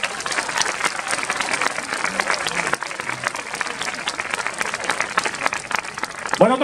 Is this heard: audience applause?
yes